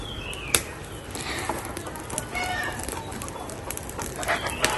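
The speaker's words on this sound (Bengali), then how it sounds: "সকালে ঘুম থেকে উঠে দেখলাম আমাদের মুরগিগুলা এখানে খাবার খাইতেছে" Chickens cluck and call while pecking at feed on a village farm in the morning. The calls are faint and scattered over a steady outdoor background hiss, with one sharper click partway through.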